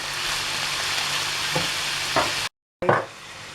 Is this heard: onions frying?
yes